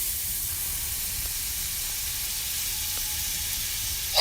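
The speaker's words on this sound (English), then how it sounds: "Take a few slices and add them to the wok." Slices of butter sizzle in a hot wok while fried rice is being made, a steady even hiss that holds constant from start to finish with no talk.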